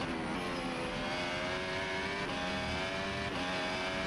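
Formula 1 race car engines scream continuously at high revs in a racing video game at the Canadian Grand Prix, a loud dense whine with slight pitch dips as gears shift, with no voices.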